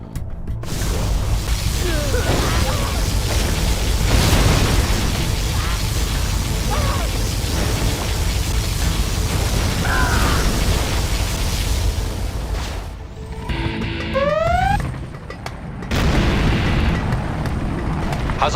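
Particle cannon blasts and explosions rumble through a C&C Generals Zero Hour battle, a dense continuous roar of booms with brief high whines of weapons firing, loud and sustained throughout.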